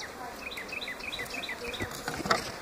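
Package bees buzz around a top bar hive, a close, steady insect drone with wavering pitch, faint and continuous beneath a few soft handling knocks.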